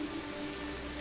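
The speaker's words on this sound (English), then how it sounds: "It is raining." Steady rain falls outdoors in Florida, a constant, even patter and wash of drops on surfaces that holds close and fairly loud for the whole second, with no voices.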